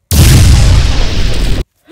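Loud, dense explosion-like roar from a Mario video game, a sustained booming burst lasting about a second and a half before cutting off abruptly, with no talk over it.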